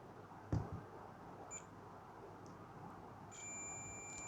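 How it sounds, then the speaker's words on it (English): A multimeter's short, high electronic beep sounds during a continuity check on a fuse pulled from a DSS36 soldering station, quiet and clean, with a faint tap or click of the probes just before it. "we need to check the continuity of this fuse with the help of an multimeter."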